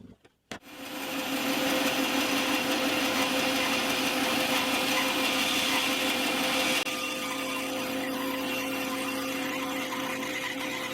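A power tool spins up and cuts through an electric guitar neck blank, a loud sustained whining roar that starts abruptly after a couple of brief knocks and holds steady, shifting slightly in tone partway through.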